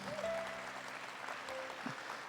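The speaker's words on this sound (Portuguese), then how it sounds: "Dá uma salva de palmas para o Messias." Church congregation applauding for the Messiah during a Catholic service, a steady broadband wash of clapping lasting the whole moment, moderately distant with faint tonal sounds over it.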